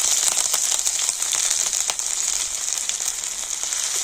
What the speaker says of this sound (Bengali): তো আদা আর 5 ফোড়নটা তেলের সাথে একটু ভেজে নিয়ে